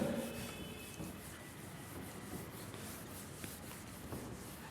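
Rubbing on a board during a basic maths lesson for physics, a continuous soft scrubbing and brushing texture heard close and alone, with no talking.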